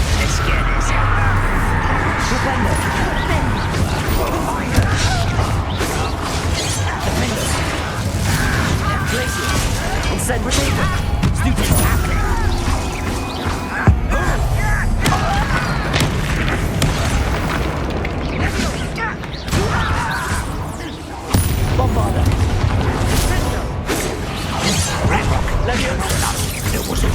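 Heavy, continuous battle noise from the Hogwarts Legacy video game around the Bombarda blasting spell, with deep rumbling booms and crashes layered under speech throughout.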